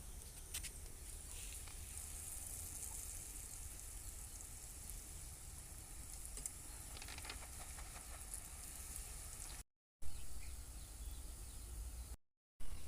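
Rose cookies fry in hot oil on a wood-fired stove, giving a steady, soft sizzling hiss with faint bubbling pops that runs without pause apart from two brief cuts.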